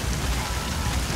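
Steady rain in Metal Gear Solid V: The Phantom Pain makes a dense, continuous hiss of drops hitting surfaces, even and enveloping throughout, with no voices.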